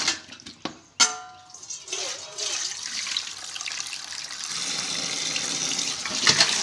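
Water is poured and splashes while jalebi fish (tilapia) are being washed: a sharp splash near the start, then steady, fairly close running and pouring water that continues to the end.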